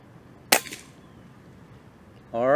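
A single rifle shot, fired while a scope is being adjusted for iguana hunting, gives a sharp, fairly faint crack with a short ringing tail, followed by quiet until a voice begins speaking.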